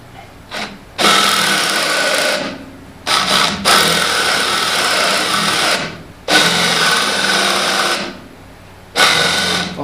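Porter Cable PCCK619L2 cordless drill/driver running in drill mode, a steady high motor whine in four bursts of a few seconds each, separated by short pauses, close and loud with no talk.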